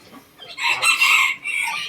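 A golden Tomtam bantam rooster from Khon Kaen gives one short, close crow, with a brief rise followed by a drawn-out, strained call.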